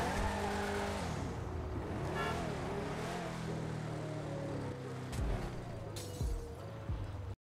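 A Nissan 350Z drifts in GTA V, its engine roaring steadily with harmonic sweeps as the revs rise and fall. Tires squeal loudly and continuously throughout the slide, with a few sharp bumps near the end.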